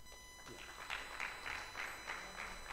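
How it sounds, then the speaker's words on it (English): Audience clapping at a TEDx UHAS 2023 event, a brief patter of applause of moderate loudness with no one speaking over it. "A round of applause for him."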